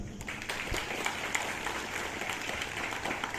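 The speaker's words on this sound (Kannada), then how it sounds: "ಆ ಪ್ರಜ್ವಲ್ ಮಗುಗೆ ಒಂದು ಚಪ್ಪಾಳೆ" Applause for a child named Prajwal at a school's 78th Independence Day celebration: a steady, dense patter of many hands clapping together for a few seconds, with no voices over it.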